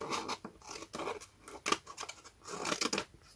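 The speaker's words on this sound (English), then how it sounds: "I'm just gonna trim off the very edge of it, because my scissors aren't actually that sharp" Dull scissors snip along the edge of paper in a quick, uneven run of close crisp cuts and crunchy rasps with short pauses between them, and no talking.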